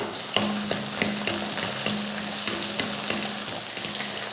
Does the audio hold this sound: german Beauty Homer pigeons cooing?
no